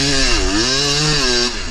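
A KTM 300 two-stroke dirt bike engine idles and revs close by on a snowy sandpit, a loud, steady buzzing drone whose pitch dips and rises as the throttle is worked, then eases off briefly at the end.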